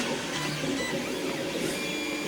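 A 3D printer runs steadily in a print room, a continuous whirring hum with faint stepper-motor whine, close and unchanging, with no one talking.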